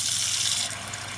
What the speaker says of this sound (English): What I'm going to do is put in some water,